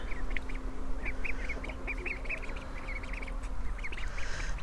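A flock of ducks, with ducklings kept nearby, quacks in rapid, overlapping calls at moderate distance, a steady chatter running throughout.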